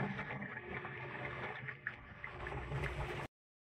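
Water splashing and gurgling inside an automatic washing machine with a water-dumping fault, a continuous moderate churning wash with a brief louder splash midway, cutting off abruptly near the end.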